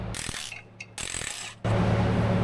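A ratchet wrench loosening bolts on an outboard boat engine that doesn't run clicks in two short close bursts, then a longer sustained run of rapid ratcheting, with no talking.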